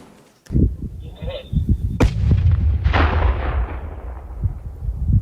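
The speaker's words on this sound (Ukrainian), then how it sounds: "Тільки що було знешкодження артилерійського снаряду 30-мм" Controlled detonation of a 30-mm artillery shell during demining near Balakliia, Kharkiv region: a sharp, loud blast followed by a long rumbling roll that fades slowly, with a faint earlier pop and brief distant voices before it.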